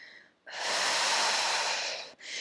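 One long, loud, close breath taken during a floor exercise stretch, followed by the start of another, with no talking over it.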